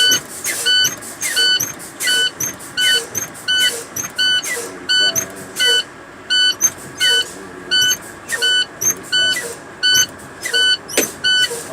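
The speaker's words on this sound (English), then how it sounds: "I'm gonna fan my brakes several times until my parking brake pops out" A truck's air brakes are pumped repeatedly in the cab until the parking brake pops out, giving a regular series of short hissing air bursts with brief gaps, close by, over a low idling engine.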